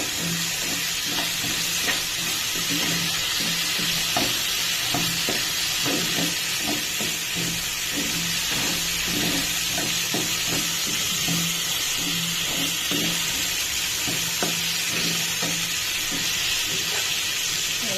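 Bitter gourd fries in a pan with a steady, hissing sizzle. Spatula scrapes and light knocks of stirring recur throughout, with no voices.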